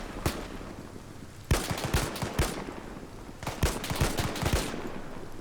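Gunfire in the World War II shooter Arma 3 Spearhead 1944: a few scattered single shots, then bursts of sharp cracks and short volleys in uneven rhythm, fairly close and loud, with no talking.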